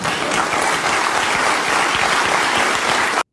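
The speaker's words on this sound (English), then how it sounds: "That was some aggressive clapping" A television studio audience claps hard and fast, a dense, loud, steady wall of applause that stops abruptly.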